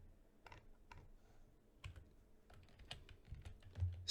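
Quiet computer keyboard typing, a sparse run of soft clicks and taps close by, slightly quickening toward the end with no talk.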